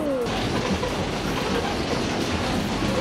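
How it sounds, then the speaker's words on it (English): A train passes near Koondrook on the Murray River, its steady wheel-on-rail rumble and clatter holding at a constant, fairly loud level throughout without a break. "Train. Train."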